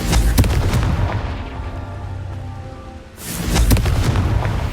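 Confringo fire spell explosions in the Hogwarts Legacy video game, loud booming blasts with crackling bursts, a lull with a lingering tonal hum, then another heavy burst of explosions near the end.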